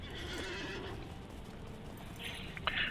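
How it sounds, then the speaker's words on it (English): A horse neighs and whinnies amid hoof clip-clops while being ridden in the Lord of the Rings Online game, with steady ambient game sound beneath and a brighter whinny near the end. "I want to go ahead and ride the horse"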